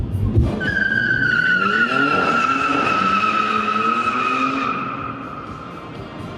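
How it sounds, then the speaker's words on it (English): Dodge Charger Scat Pack with a Rumblebee badge passing at a car show, a loud engine note with a sweeping pitch shift as it goes by, tire noise and a fading tail, with no talk over it. "let's get a drive-by of this here Charger"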